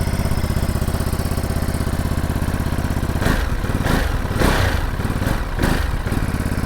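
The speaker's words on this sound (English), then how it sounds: "can you hear that barking sound of the V2 engine?" A Ducati Monster 937 with a V2 engine idles with a steady, lumpy beat, then barks through several sharp throttle blips close by, with no talking.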